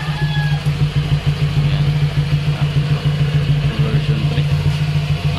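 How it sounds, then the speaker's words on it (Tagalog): A Honda Click scooter with an aftermarket Rapido V3 exhaust pipe idles steadily up close on its center stand, the exhaust giving a low, throbbing burble with an even pulsing rhythm and no voices. "yung tunog ng ating pipe kapag naka-center stand siya."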